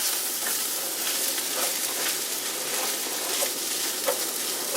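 Eggs being stirred in a large frying pan for chicken fried rice, with a steady, even sizzle and faint scraping clicks from the spatula throughout, no talking.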